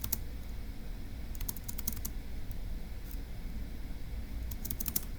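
Someone types a puzzle answer on a computer keyboard in a few quick bursts of clicks separated by pauses. The keystrokes are faint and close, over a low background hum, and no one speaks.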